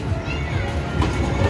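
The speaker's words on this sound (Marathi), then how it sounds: "ही बघा ट्रेन गेली" A kids' train ride rumbles past at an amusement park in Mumbai, a steady low rolling drone with children's voices and crowd chatter mixed in around it.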